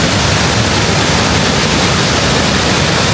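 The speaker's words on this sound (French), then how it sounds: "maintenant, nous avons une cascade improvisée" Floodwater pours over an edge as an improvised waterfall, a loud, constant wall of rushing, crashing water that stays unbroken throughout with no voices.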